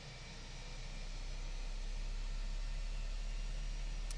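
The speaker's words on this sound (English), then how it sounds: "The sound set on this these IA engines are just some of the best in Flight Simulator." Steady, droning roar of Airbus A321 jet engines in Microsoft Flight Simulator, with a deep low rumble and broad hiss, constant and unbroken throughout, no voices.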